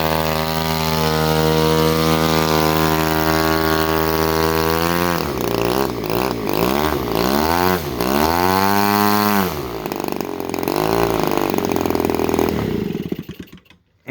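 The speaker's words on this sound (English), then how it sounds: "As you can see, it hand starts very good. It's a very well-mannered engine." Roushe Cobra 2.3 cu. in. RC gas engine, an early Zenoah with a rebuilt carburetor and new gaskets, runs loud and close, holding a steady idle before revving up and down in several bursts, then dying away at the end.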